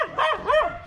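Dogs bark in two close, loud yelping bursts in quick succession aboard a boat on a trip from Manila to Negros Oriental, with no one talking.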